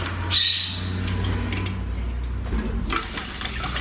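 Water gurgling and splashing through a freshly cleaned aquarium filter in an axolotl tank, a steady close wash with a brief brighter splash near the start and another swell toward the end.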